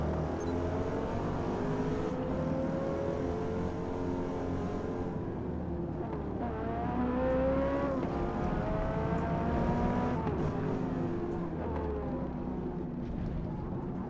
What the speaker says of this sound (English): He's got the misfiring system.